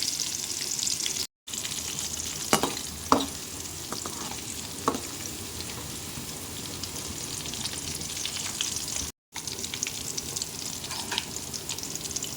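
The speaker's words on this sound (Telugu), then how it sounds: "ఎల్లిపాయలు వేసుకోవాలి అలాగే పచ్చిమిర్చి కూడా వేసుకొని కొద్దిగా బ్రౌన్ రంగు వచ్చేసరికి ఎల్లిపాయను ఫ్రై చేసుకోవాలి" Sliced onions and green chillies frying in oil until browned: a steady, close, hissing sizzle with occasional spatters and stirring clicks, interrupted by two brief silent cuts.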